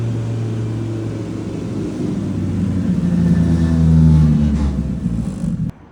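Polaris Thresher Shark engine revving hard on a dyno, a loud steady droning roar that climbs in pitch toward a peak and then cuts off sharply near the end.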